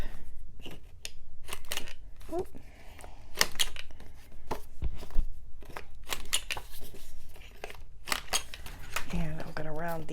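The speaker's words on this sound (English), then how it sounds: "I just cut 1/4 inch off this one end, and then I'm going to round my corners" Paper is trimmed with scissors and its corners rounded for a Christmas mini album, giving a run of crisp snips and clicks close by, with a voice talking over parts of the work.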